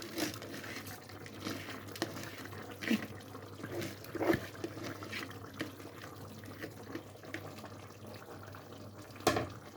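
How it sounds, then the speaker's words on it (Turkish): Water poured from a container into a pot of chopped leeks and rice, a soft splashing trickle up close with small clinks, running steadily for several seconds without any talk. "Çok az bir su daha koyacağım çünkü pirinç suyunu çekecektir"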